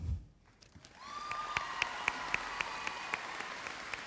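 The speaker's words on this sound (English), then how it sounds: "please hold your applause for the whole group" Applause from a crowd at a high school graduation starts after a quiet moment and builds into steady clapping, with a few louder claps standing out above the rest.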